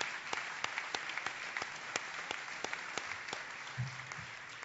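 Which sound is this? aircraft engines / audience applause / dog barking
audience applause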